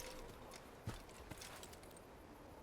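Quick clip-clop hoofbeats of a horse in the video game Assassin's Creed, steady and fairly faint, with a couple of sharper thuds breaking the rhythm.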